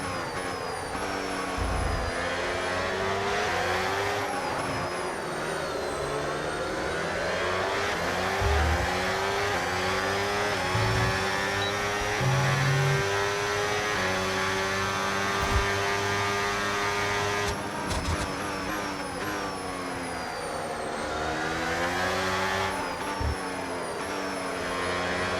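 Formula 1 race car engine in the F1 26 racing game, a loud, steady high-pitched whine rising and falling through gear changes as it accelerates on overtake boost, continuous throughout.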